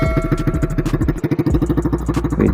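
An RS 150 motorcycle with a Vmax Stage 2 exhaust and silencer, a close, loud, throbbing idle with rhythmic pulses and a short dip partway through.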